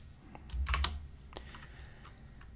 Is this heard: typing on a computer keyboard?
yes